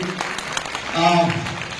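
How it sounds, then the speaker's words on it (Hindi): Audience applause for children at a school annual function, a steady wash of clapping that swells around the middle, with talk and tonal sounds mixed in over it. "एक बार सारे बच्चों के लिए तालियां हो जाएं, एक बार जोरदार वाली।"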